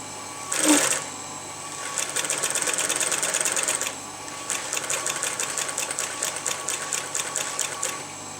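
A sewing machine stitches a double-thread thong through twisted fabric, running in two rapid, rhythmic bursts separated by a short pause, with a louder clunk just before the first run; close and clear, with no talking.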